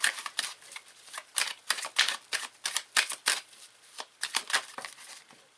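Tarot cards shuffled in quick, uneven bursts of crisp papery flutter, close by and moderately loud, with no talking.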